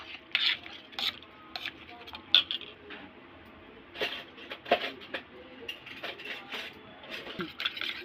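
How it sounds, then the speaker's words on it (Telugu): A whisk stirs gram flour batter in a bowl to beat out the lumps, giving a steady series of light metallic clicks and scraping strokes, close up and with no talk. "విజర్తో మంచిగా ఉండలు లేకుండా ఇలా మంచిగా కలుపుకోవాలండి"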